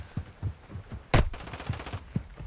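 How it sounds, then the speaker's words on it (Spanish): Several sharp gunshots in Warzone 2 ring out irregularly, one much louder blast in the middle standing out from quieter pops. "Sí, van un par de tiros."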